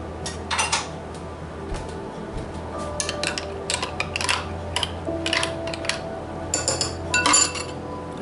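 Metal measuring spoons clink and clatter against each other in a kitchen while pumpkin bread is being made, a series of bright, close, irregular jingles over faint background hum.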